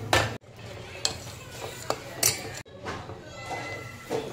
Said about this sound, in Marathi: आता आपण व्यवस्थित त्याला हलवून घ्यायचं आणि व्यवस्थित 2 ते 3 मिनटासाठी असंच शिजवून घ्यायचं आपल्याला.